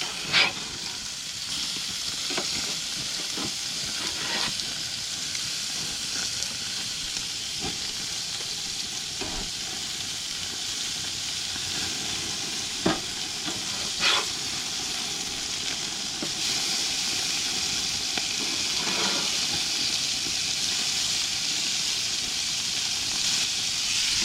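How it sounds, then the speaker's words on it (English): Burgers sizzle steadily on a Char-Broil Grill to Go infrared grill as grease drips and vaporizes into smoke, a continuous close hiss broken by occasional sharp pops and crackles. "when the grease drips down, it vaporizes it so it smokes a lot"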